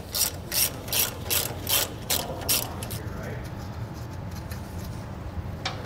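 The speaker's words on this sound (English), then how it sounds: "What we're going to need to do is pop off the nuts from these five bolts right here." Hand ratchet loosening nuts from five bolts on a Kodiak disc brake flange on a flatbed trailer, with rapid clicking bursts in a steady rhythm over the first half, close and clear, then fading to quieter background.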